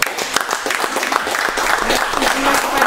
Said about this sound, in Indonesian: Luar biasa, kita beri tepuk tangan dulu.